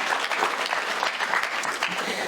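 An audience at a Tamil stage debate claps in a brief burst of steady, full applause that fills the hall.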